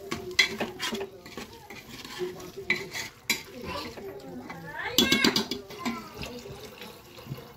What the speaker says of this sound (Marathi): आपल्या काळजी तेवढं चांगलं हलवून घेऊया